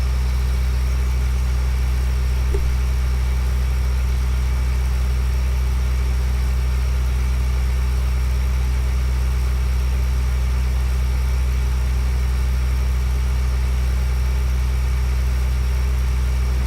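A farm vehicle's engine runs steadily in a farming game, a loud, unchanging low droning rumble that holds alone and without pause.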